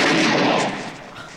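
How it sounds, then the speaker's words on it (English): A gunshot from the Western comedy film Blazing Saddles bursts out loud and broadband, then its echo fades over about a second. "You shot the bad guy."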